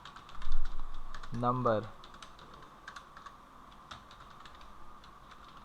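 Fast clicking of a computer keyboard while entering data in an Excel spreadsheet, with steady key taps running through the clip under a voice speaking Hindi.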